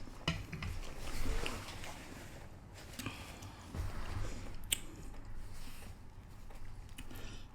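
Close-up chewing and biting of buttery garlic bread, with soft crunches and wet, squishy mastication repeating irregularly, quiet and intimate with no talking.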